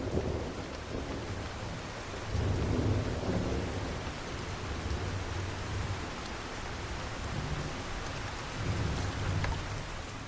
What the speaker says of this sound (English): Heavy storms are common here during the summer.